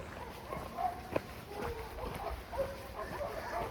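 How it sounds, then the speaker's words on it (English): Several dogs bark in the distance beside a river gorge lined with eucalyptus terraces, scattered yaps and woofs rising faintly over a steady rush of water. "sounds like a lot of dogs."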